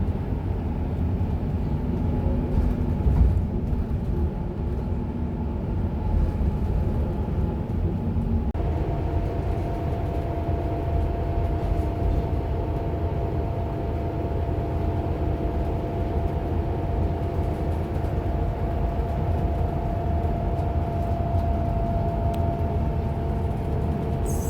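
A tour bus drives on a road between Garmisch-Partenkirchen and Füssen, heard from inside. A steady low engine and road rumble continues throughout, with no one talking.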